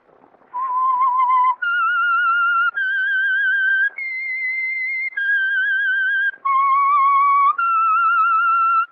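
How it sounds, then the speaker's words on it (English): A whistled theme signal opens a radio drama, a clear melodic tune of sustained pitched notes that step up and down, loud and alone with no voices. "That whistle is your signal, The Whistler."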